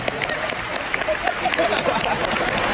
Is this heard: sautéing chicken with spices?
no